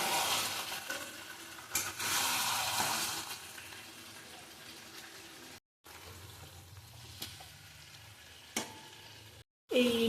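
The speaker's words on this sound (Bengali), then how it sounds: "এই বিরিয়ানি চিকেনটা অলমোস্ট কষানো হয়েই গেছে" Biryani chicken pieces, large cuts including leg pieces, sizzle and fry in a pan while being stirred, with steady frying hiss, occasional scraping clatter and brief pauses.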